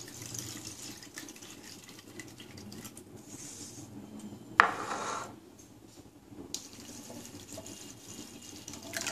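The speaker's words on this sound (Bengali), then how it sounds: "ডালটাও একটু একবার ধুয়ে নিচ্ছি, ধুয়ে আমি পরিষ্কার জল দিয়ে ভিজিয়ে দেবো।" Lentils rinsed in water at a kitchen sink give soft sloshing and trickling, with a brief louder splash of running water midway, all fairly faint and without talk.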